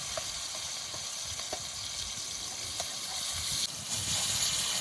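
Magur catfish frying in hot mustard oil, a steady close hiss and sizzle with faint crackles that swells louder near the end.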